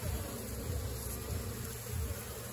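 A honeybee swarm hums in a steady, dense buzz close by while a bait hive full of honey is transferred, the drone continuous and moderately loud throughout.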